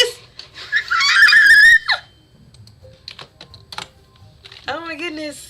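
Typing on a new computer keyboard gives rapid, close, clattering keystrokes in bursts, mixed with excited talking and exclamations.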